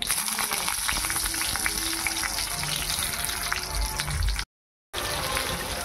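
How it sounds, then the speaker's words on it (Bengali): Stuffed pointed gourds are dropped one by one into hot oil, giving a steady, close frying sizzle with crackles and a few brief clinks. The sizzle cuts out for a moment near the end, then resumes. "তো এইভাবে পটলগুলো তেলের উপরে ছেড়ে দেব।"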